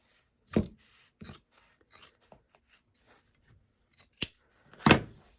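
Scissors snip through pattern material in a handful of crisp, separated cuts, close and fairly quiet, the last two strokes the strongest, with no voices.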